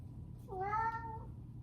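A single cat gives one clear, drawn-out meow over a quiet low room hum, with nothing else sounding around it.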